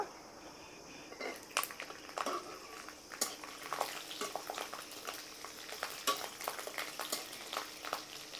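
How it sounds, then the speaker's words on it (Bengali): Garlic frying in hot mustard oil in a wok after green chillies sends up a steady, faint crackling sizzle with scattered small pops and spatters, heard alone without voices. "কাঁচা লঙ্কা একটু ভাজা হয়ে গেছে এবার রসুনটা দিয়ে দেব"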